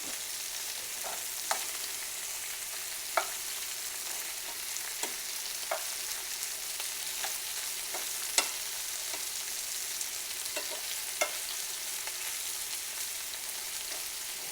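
Lamb pieces sear in a hot pan for a Moroccan tagine, giving a steady close sizzle with occasional sharper pops and crackles spread across the whole stretch, no voices over it.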